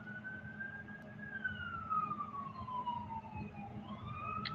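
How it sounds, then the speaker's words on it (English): An emergency siren wails slowly up and down at a distance, faint over low background rumble. "You hear that siren?"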